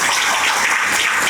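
Audience clapping at a Tamil book festival gathering, a dense steady patter of many hands filling the hall for the whole moment without any voices over it.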